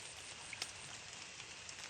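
Rain falls in a soft, steady patter with a couple of faint drips standing out. The sound is distant and quiet throughout, like drizzle heard outdoors on a rainy fishing day.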